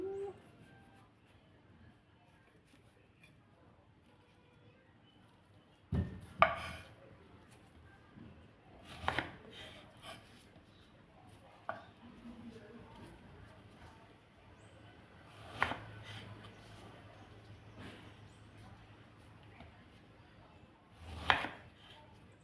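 A knife cuts sharply through kaffir limes against a board a handful of times, scattered irregular thuds amid faint background noise and quiet rustling.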